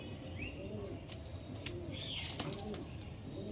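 Andhra racing pigeons coo in soft repeated rolls nearby, with a few sharp wing flaps and rustles breaking in near the end, while someone talks over them.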